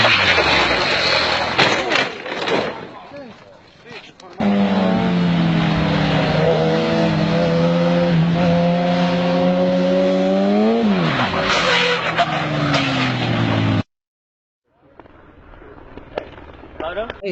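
A small motorcycle passes along a road with a rising and falling engine whine that sweeps by close and loud, flanked by other road noise and a sudden cut near the end.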